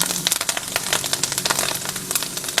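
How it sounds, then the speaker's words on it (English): Kale sizzles and crackles in hot oil in a large pan, a close, busy spitting hiss with irregular pops throughout. "Got that sizzle."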